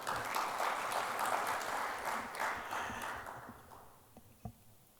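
Applause from an audience after a generous introduction at a talk, a dense wash of many hands clapping that stays steady for a few seconds, then thins and fades to a few scattered claps.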